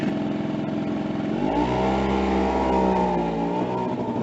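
A warmed-up Suzuki Address scooter with 9-gram variator rollers pulls away from a standstill. Its small engine rises from idle into a buzzing, revving drone and holds there close by before easing slightly.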